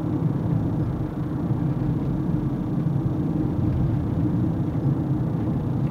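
Steady low rumble of road noise inside a 2011 Nissan Altima 2.5 SL while driving, a constant droning hum filling the cabin without any talk.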